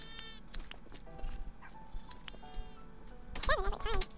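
Sheep bleating in Minecraft, several short wavering game bleats, the clearest two close together near the end, over a quiet background of other faint game sounds.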